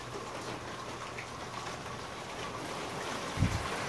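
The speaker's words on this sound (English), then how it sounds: "Here's the rain." Steady hiss of heavy rain during Hurricane Harvey, falling continuously around a garage, with a brief low thump near the end and no talking.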